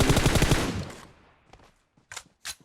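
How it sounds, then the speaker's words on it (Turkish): A rapid burst of automatic gunfire in the video game PUBG Mobile, loud and close, fading out, followed by a couple of sharper isolated shots. "Ya, ön taraftan bir silah sesi mi duydum?"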